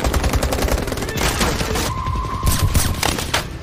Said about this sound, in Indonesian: aksi tembak-tembakan yang sangat edan pun tak dapat terhindarkan